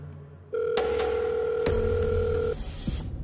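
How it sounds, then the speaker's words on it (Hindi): A telephone being dialed in a Hindi TV drama scene, with steady tone held for a couple of seconds, sharp clicks of the handset, then quieter room noise; no talk. "अलका भाभी को फोन करके बताना होगा"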